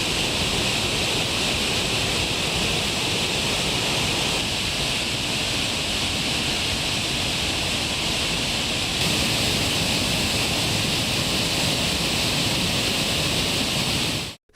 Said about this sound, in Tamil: கொட்டி தீர்க்கும் கனமழையால் சுருளி அருவியில் தண்ணீர் ஆர்ப்பரித்து கொட்டுகிறது